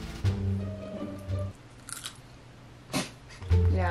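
Someone bites and chews a foreign candy wrapped in edible rice paper, producing close, intermittent crunchy chewing and mouth sounds in bursts, with short breaths and vocal murmurs between them.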